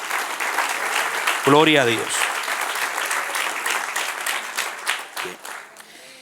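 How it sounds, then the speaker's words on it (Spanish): A church congregation breaks into sustained applause, a dense, steady clatter of many hands filling the room, while a voice briefly calls out over it. "dale un aplauso al que reina"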